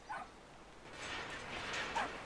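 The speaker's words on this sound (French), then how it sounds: "Oh, un petit chien." A small dog in the video game Brothers: A Tale of Two Sons gives faint, thin yips and whimpering barks, quiet and somewhat distant over a soft background hiss.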